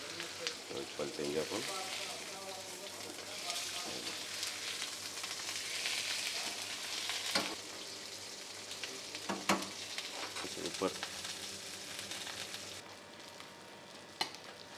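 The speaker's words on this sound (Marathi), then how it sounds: "तेल गर्म हो गया मच्छी डालेंगे डाल देंगे स्लो गैस में अच्छे से इसको पकाना है" Fish frying in hot oil over a low gas flame, a steady broad sizzle running throughout with occasional pops and stirring clatter, with voices talking faintly in the background.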